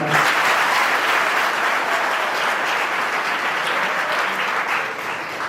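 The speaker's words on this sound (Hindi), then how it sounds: "अच्छी तालियां बजाकर सूचित करिए एक बार" Applause from an audience after a lecture session, a loud continuous roar of many hands that holds steady and fades slightly near the end.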